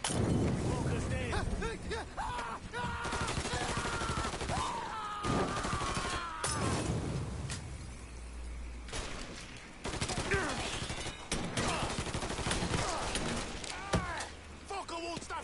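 Rapid gunfire in the Mafia III video game, dense bursts of shots and crashes crowding together close and loud, with excited shouting over the top throughout.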